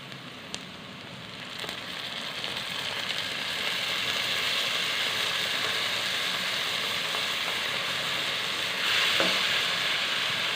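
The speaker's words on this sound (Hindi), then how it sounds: "अब इसके अंदर हम अदरक लहसुन का पेस्ट शामिल करेंगे।" Ginger garlic paste fries with light-browned onions in a pan, giving a continuous crackling sizzle that swells and grows denser partway through, with a few sharp clicks of stirring. No one talks.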